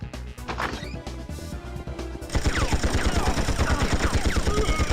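Enemy guards open fire in the video game 007 Tomorrow Never Dies: scattered shots at first, then a sustained, rapid machine-gun burst rattling on loudly to the end.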